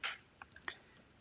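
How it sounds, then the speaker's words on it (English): A handful of quiet, scattered keystrokes on a computer keyboard, sounding as light separate clicks at an uneven pace with no voice over them. "I will start typing our service name."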